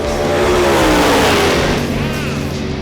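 Cars in a drag race, including a 1969 Buick Skylark and a Mustang, roaring loudly and continuously at close range with rising, sweeping engine revs.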